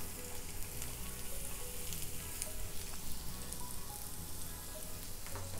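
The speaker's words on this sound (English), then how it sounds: "medium-low heat, and we're gonna sweat these aromatics down until they're nice and caramelized" Onion, shallot and garlic sweating over medium-low heat in a pan, a soft continuous sizzle with light crackles and an occasional scrape, steady and close with no voices.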